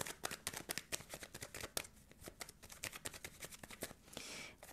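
Tarot cards shuffled by hand for a reading, a dense run of crisp riffling snaps and papery flicks in quick irregular bursts, close and fairly quiet, with no talking.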